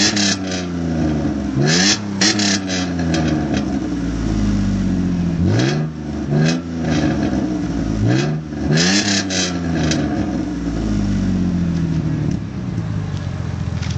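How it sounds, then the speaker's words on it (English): Dodge Intrepid with a Cherry Bomb Pro Series exhaust, revved repeatedly near the car: several rising throttle blips that fall back to a steady idle between them, loud and clear with no talk. "It's got the Cherry Bomb Flow for Cherry Bomb Pro Series. I'll show you what it sounds like."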